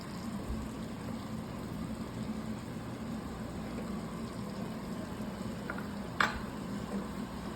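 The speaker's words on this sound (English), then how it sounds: "Now I'm going to finish basting it just 2 more times." Filet mignon basting in a hot pan with butter, a steady soft sizzle and frying hiss running continuously, with a brief sharp clatter of the spoon near the end.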